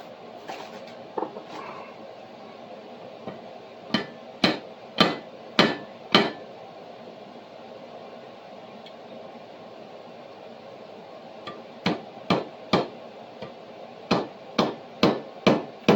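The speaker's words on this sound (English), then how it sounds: "Just a couple of nails down the sides to actually tighten everything down in place." Nails being hammered into the sides of a handmade bushcraft shovel outdoors: two sharp bursts of five or six loud, evenly spaced metal-on-metal strikes, separated by quiet with faint ambient hiss and a few softer taps.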